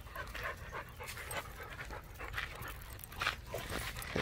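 A dog pants steadily during a pack walk with several dogs outdoors, its quick, breathy rhythm close to the microphone over constant background rustle, with a few faint whimpery breaths mixed in.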